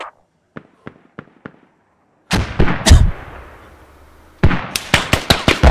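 Gunfire in a multiplayer skirmish shooter game: a few quiet, distant single shots, then loud close bursts of rapid fire with echoing tails, a lull, and another loud volley.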